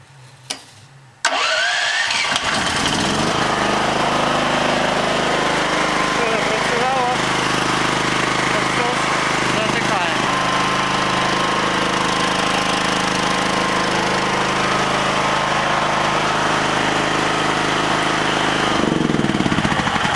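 Votan GFC 6800E 5.5 kW generator starting for the first time, a brief cranking that catches into a loud, steady close engine roar running continuously.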